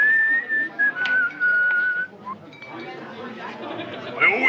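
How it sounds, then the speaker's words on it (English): A man whistles a tune in clear sustained notes, close and fairly loud, then stops as quiet murmuring chatter and rustling take over. "Couldn't he pick a better time to do his whistling?"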